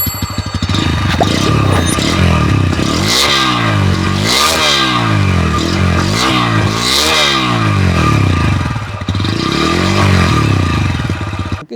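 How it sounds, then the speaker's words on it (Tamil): A 2025 Bajaj Pulsar N125 motorcycle exhaust, revved repeatedly in loud, close bursts that climb and fall several times before settling back to idle, with no talking. "நெக்ஸ்ட் இந்த வெஹிக்கிளோட எக்ஸாஸ்ட் நோட் எப்படி இருக்குன்னு கேளுங்க"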